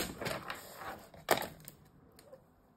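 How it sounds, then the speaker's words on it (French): A cutter knife slices through plastic in a few short, sharp scratchy strokes, with one louder snap-like cut in the middle, close and quiet against near silence. "Hop, je coupe sur le plastique."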